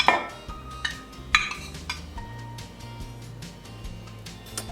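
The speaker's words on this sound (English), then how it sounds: "So I'm just gonna take my cottage cheese, dump that into a medium bowl there." Cottage cheese is dumped into a medium bowl, giving a few spoon scrapes and clinks against the bowl, close and fairly quiet, with a soft wet plop among them.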